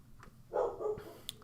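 A dog barks outdoors, a few short muffled barks at moderate distance, with a louder cluster in the middle of the moment and a brief sharp yip near the end, with no talking.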